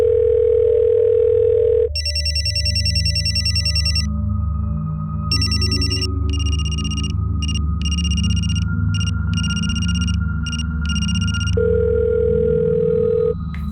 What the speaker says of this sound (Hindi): फोन बज तो रहा है लेकिन वो उठा नहीं रहे।